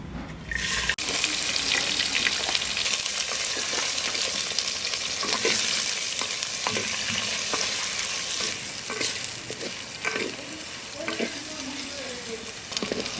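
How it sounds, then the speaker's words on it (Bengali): Chopped onions frying in a clay pot with whole spices for a duck curry, a steady loud sizzle running throughout, broken by scattered scraping stirs from a utensil. "পেঁয়াজটা লাল লাল করে ভাজা হয়ে গেছে"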